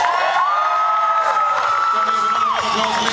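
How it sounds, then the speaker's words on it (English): An audience at an air guitar contest at the Irish Blog Awards 2011 cheers and whoops loudly and continuously, with a sustained high shout rising above the crowd noise. "can we have a round of applause, please?"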